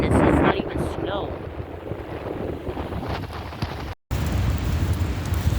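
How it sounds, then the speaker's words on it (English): Gusting wind and rain during an evening storm outdoors in New York City, a steady broadband roar with strong wind buffeting on the microphone and a brief dropout near the end. "It is really windy out here, and I just realized that this is rain."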